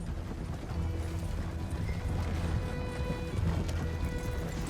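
Horse hooves clip-clopping in the video game Red Dead Redemption 2, a steady running hoofbeat rhythm blended into a dense, loud game soundscape with continuous ambient rumble.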